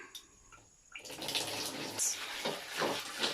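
Water runs into a basin for hand-washing clothes with powder detergent and bleach, a close, steady splashing pour starting after a brief quiet moment and continuing to the end.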